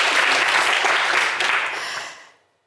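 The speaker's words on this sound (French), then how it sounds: "est-ce qu'on peut applaudir Mariam très fort," A game-show studio audience applauds a contestant named Mariam, a loud full burst of many hands clapping that fades out quickly after about two seconds.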